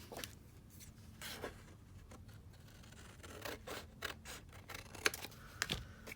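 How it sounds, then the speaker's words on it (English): Scissors snip through a card to cut it in half for a handmade envelope journal, giving a few crisp, quiet cuts amid soft paper rustling and handling. "Cut it in half."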